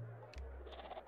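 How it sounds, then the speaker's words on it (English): A short goat bleat from the video game Secret of Evermore, faint, with a wavering, bleating quality. It sounds over a low steady background hum. "I have a goat."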